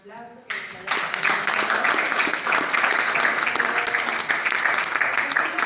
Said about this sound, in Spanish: Primero hay que darle un aplauso.